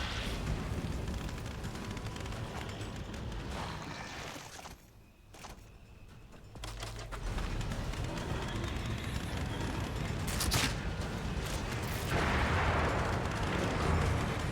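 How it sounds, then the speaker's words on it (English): Sustained machine gun fire from enemies in The Evil Within, loud and nearly continuous rattling with a brief lull midway, then heavy firing resuming. "Oh, it's more machine gun enemies."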